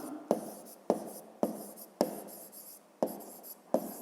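A pen writes a math answer on paper in seven crisp, evenly spaced strokes about half a second apart, close and fairly quiet, with no voices.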